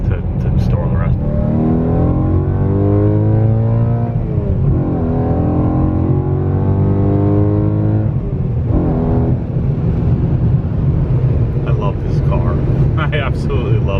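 Steady in-cabin drone of a car being driven, the engine note rising and falling through gear changes as it accelerates, with a constant road rumble and a person speaking over it.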